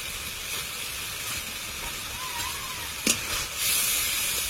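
Spices with salt and turmeric powder fry in oil for a katla fish curry with potatoes, a steady close hiss and sizzle that runs throughout, with a brief clatter near the end.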